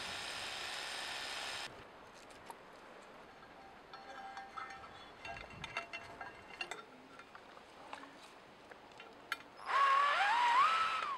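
A mounting bracket being drilled and screwed in place, with short bursts of drill whine at the start and end and scattered clicks and ratcheting screw sounds in between, close and fairly quiet.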